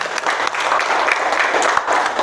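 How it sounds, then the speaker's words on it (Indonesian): Students in a classroom break into brief, lively clapping, a dense patter of hands at close range over a couple of seconds. "Tepuk tangan untuk kalian semua."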